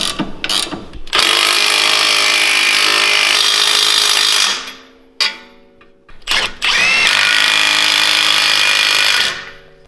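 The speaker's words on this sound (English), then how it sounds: "put a ratchet wrench on there" A powered ratchet tightens a bolt on a 2011-2016 Ford Explorer during a leveling kit install, two long loud whirring bursts separated by a short pause with brief clicks, very close.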